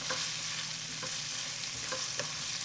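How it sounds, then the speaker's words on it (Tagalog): Shrimp and garlic stir-fry in a hot pan, giving a steady, close sizzle with a few brief clinks and scrapes of a utensil stirring, and no voices. "Sunod naman yung bawang. Lutuin na din natin yung hipon."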